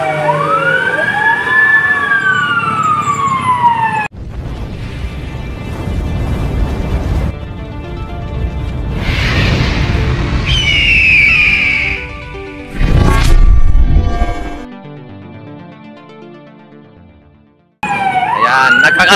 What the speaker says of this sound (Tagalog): ang grabe ang mga fire truck dito na dumadaan